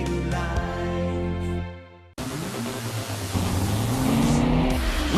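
A 2014 Nissan Altima engine hums steadily with a sustained tone. After an abrupt cut it becomes a loud, rushing roar as the car speeds hard, with a rising drive sound and a hint of tire noise.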